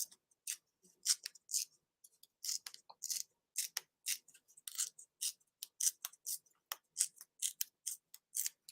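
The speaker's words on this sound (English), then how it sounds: "We're going to tear one for that card. And then we'll tear this one for the other." Paper strips torn by hand for a Christmas card, a steady run of small dry crackles and snaps, close and fairly quiet with no talking.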